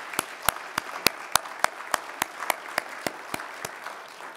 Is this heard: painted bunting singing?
no